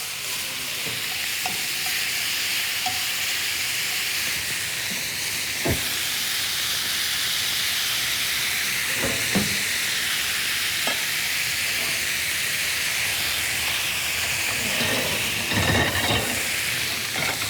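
Onions frying and caramelising in a pan give a steady, close hiss and sizzle, broken by occasional clicks and scrapes of stirring.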